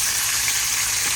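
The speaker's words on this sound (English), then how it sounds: "So first we got to start out with the sauteed onions and peppers." Onions and peppers sauté in a pan with a steady, close, dense sizzle that holds evenly without pause.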